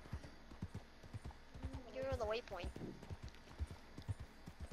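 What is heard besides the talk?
horse hooves trotting in Red Dead Online video game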